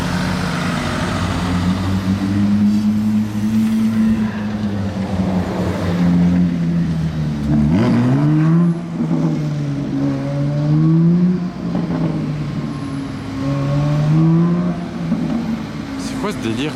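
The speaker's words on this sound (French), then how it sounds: "J'entends et je vois de loin une Porsche." A Porsche with a loud aftermarket exhaust drives by, its engine droning and revving with rising and falling pitch as it passes, heard steadily over a voice and road noise.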